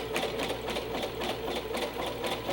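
A sewing machine runs a zigzag stitch along a fabric edge, its needle hammering in a fast, steady rhythm with a continuous motor whir, close and alone throughout.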